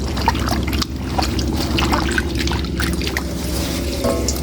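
Water sloshes and trickles steadily as a heavy fabric suit is pushed into a basin to soak, a continuous close-up liquid wash with a low rumble underneath.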